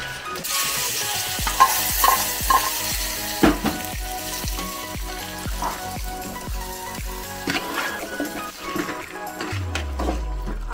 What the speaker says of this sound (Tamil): வரமிளகாய், வைத்தம்பருப்பு, பெருங்காய் இதெல்லாமே வந்து தாளித்து அவியலில் வந்து சேர்க்கணும்